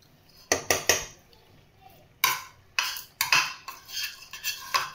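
A utensil mixes potato in a metal pot, sending out sharp scraping clanks in irregular bursts, some in quick pairs and clusters. The sounds are close and clear against a quiet background.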